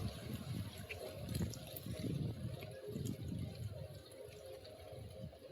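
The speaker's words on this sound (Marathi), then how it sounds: "उकडून घेतलेलं मटण आहे त्यामधलं थोडं पाणी टाकून" Water from boiled mutton poured into a frying pan of spiced masala gives a steady, low rushing splash that runs on without a break.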